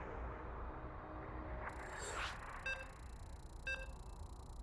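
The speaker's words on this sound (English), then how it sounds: "Players are ready. You can hear the beeps." Two short electronic beeps spaced about a second apart over a mechanical whirring background, with a brief swooshing sound before them, as StarCraft 2 players load into a tournament match.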